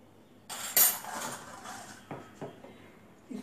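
A metal spoon stirring and scraping green moong dal chilla batter with chili, ginger and spices in a bowl, giving a few clinks and soft scrapes against the bowl rim, close and unhurried.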